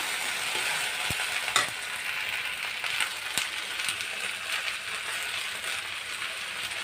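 Okra (bhindi) fries in a pan with salt as it is stirred, giving a steady, continuous sizzle with a few light scrapes and clicks of the utensil, close and alone with no talking.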